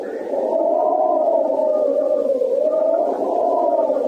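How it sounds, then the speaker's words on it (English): A steady, hollow howling wind with a slowly wavering pitch, loud and continuous, like a staged sound effect with no voices. "You hear the wind? It's beginning again."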